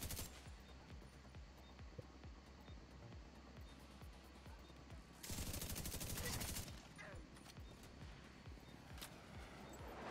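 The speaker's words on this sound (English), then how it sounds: "Holy moly, that was a rocket." In The Division's Dark Zone, a sudden loud blast-like roar bursts in for about a second and a half over a steady rattle of rapid gunfire, with faint voices underneath.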